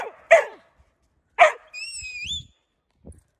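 Several dogs bark in short sharp bursts, near and fairly loud, with a whistled trill from a shepherd's whistle in between and a few soft low thumps.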